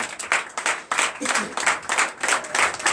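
A church congregation at a Sunday service in Comè, Benin claps in loud, sustained bursts of rhythmic hand claps, with voices mixed in throughout.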